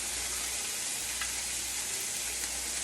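Already-cooked ham warming in a frying pan for Spanish migas, giving a steady, even sizzle with a faint crackle and no talking.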